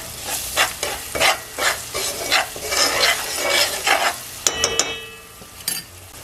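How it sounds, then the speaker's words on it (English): Seasonings, adobo, black pepper and parsley stirred in a pot while making Puerto Rican arroz moro with coconut milk; a spoon scrapes in steady rhythmic strokes over a soft sizzle, ending with a few light metallic taps, close and moderately loud. "And we're going to give this a mix."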